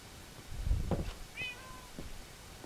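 A house cat gives a short meow at close range, with a few soft thumps and household rustles around it.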